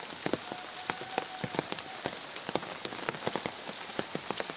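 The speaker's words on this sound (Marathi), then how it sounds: "पाऊस पडतोय खूप मित्रांनो." Heavy rain pours steadily in a Konkan village, a dense continuous hiss broken by frequent sharp drops hitting close by, loud and unbroken throughout with no voices.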